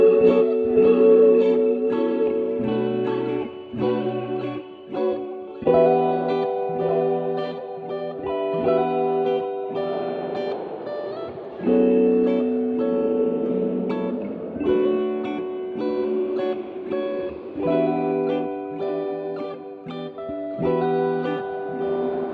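Reverb plugin presets applied to a sustained chordal synth or keyboard part, continuous and fairly loud throughout, with wash-like tails and shifting ambience between sections and no voices.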